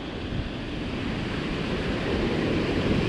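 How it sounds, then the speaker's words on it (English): Surf breaking over sandbars along a beach, a steady broadband wash of churning waves mixed with wind rumbling against the microphone, with no voices. "there's those bubbles, and the waves are breaking right about"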